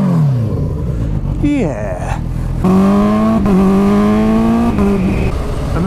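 A Kawasaki Ninja H2 motorcycle engine revs up loud and close, pitch climbing in rising sweeps as the ride begins, with a brief spoken word near the start.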